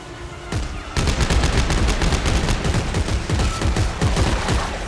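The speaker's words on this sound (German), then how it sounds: "Und schießen tun sie auch immer." Enemies firing in Dead Space 3, a rapid, loud burst of repeated gunshots in fast automatic rhythm, continuing for several seconds with no talk.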